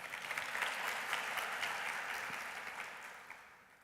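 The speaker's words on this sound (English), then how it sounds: "Let's give them a round of applause." An audience at a women in technology event applauds steadily, a dense, even wash of clapping that holds for several seconds and fades slightly at the end, heard from a distance with no speech over it.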